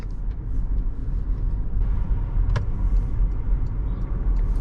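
A Porsche Macan rolls smoothly at slow speed, with steady interior engine and road rumble throughout and a faint click partway through.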